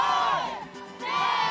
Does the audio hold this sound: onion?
no